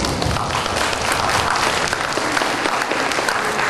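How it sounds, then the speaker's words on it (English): Enthusiastic applause from a crowd, many hands clapping in a dense, steady roar that holds at full volume throughout. "I just like to give them a big round of applause"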